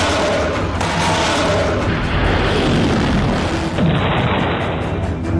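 Explosion in Ukraine–Russia war footage: a sustained roaring, rumbling blast with heavy low-end noise, loud and continuous, with a further surge partway through.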